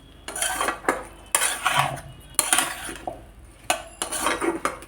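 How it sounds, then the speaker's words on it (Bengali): A spoon scrapes and clinks against a cooking pan in bursts as turmeric, a pinch of chili powder and bay leaves are stirred together with pumpkin and fish, several distinct stirring strokes close up with no talking. "এবার সব কিছু দিয়ে আমি ভালোভাবে নাড়াচাড়া করে নিচ্ছি"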